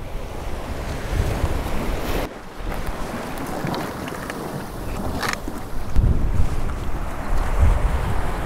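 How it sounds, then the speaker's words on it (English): Strong wind at sea buffets the microphone over rushing waves and sea spray, gusting and easing throughout. "Very windy."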